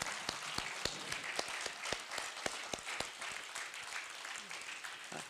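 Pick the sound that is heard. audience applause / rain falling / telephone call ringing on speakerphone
audience applause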